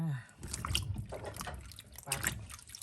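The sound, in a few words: washing black mushrooms in water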